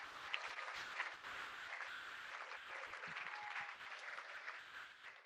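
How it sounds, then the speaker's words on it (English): Applause from an awards ceremony audience honoring student leadership award winners: a sustained, soft patter of many hands clapping at a distance, evenly spread with no talking over it. "Let's also give another round of applause for all of our award winners so far up to this point"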